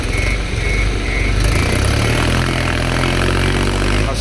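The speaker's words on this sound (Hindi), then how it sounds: "ट्रैक्टर फंस गया, ट्रैक्टर आगे से उठने लग रहा है।" A tractor stuck in a field, its front end lifting, runs with a loud, steady engine drone and low rumble that holds at a strained level throughout, close by and without speech.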